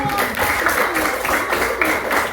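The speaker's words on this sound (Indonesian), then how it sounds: "semuanya tepuk tangan dong untuk" A classroom of students applauding steadily for a couple of seconds, a dense wash of clapping with a few louder bursts.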